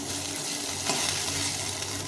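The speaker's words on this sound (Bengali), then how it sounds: "এটা ভাজা হয়ে গেছে লাল লাল করে ভেজে নিয়েছি" Okra coated in gram flour frying in a pan, a dense, even sizzle heard up close for a couple of seconds with no talk.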